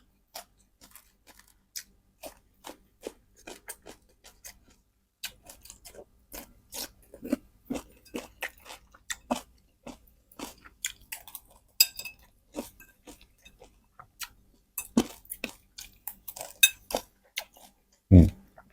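Close, wet chewing of fish chili paste eaten with hot steamed rice, irregular smacking bites and mouth sounds repeating throughout with short pauses, no speech.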